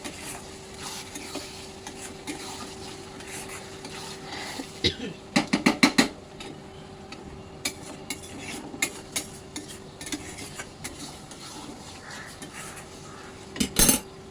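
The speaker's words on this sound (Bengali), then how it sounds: "আরেকটু নাড়াচাড়া করবো মশলাটা অনেকটা" Mutton curry masala stirred with mutton stock in a pan: a quiet background sizzle broken by bursts of spoon scraping and clinking against the metal, loudest around the middle and again near the end.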